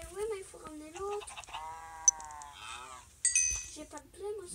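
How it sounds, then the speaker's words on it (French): Sheep bleating in Minecraft Pocket Edition, several short wavering bleats scattered across the clip at moderate loudness, heard alongside talk and small game clinks. "Je nourris les moutons."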